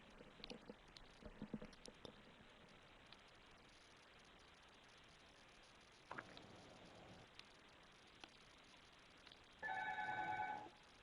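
A telephone rings once near the end, a short burst of a tonal electronic ring. Before it there is a quiet stretch of faint background noise and scattered soft clicks.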